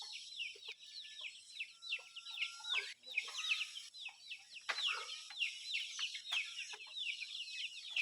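Chickens cluck and chatter in a steady, busy stream throughout, several birds close by, with occasional sharper calls rising above the flock.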